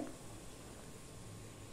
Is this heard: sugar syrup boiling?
yes